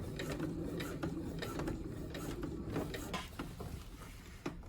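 A sewing machine stitches down a seam, a quiet, rapid mechanical clatter running steadily throughout with a few sharper ticks.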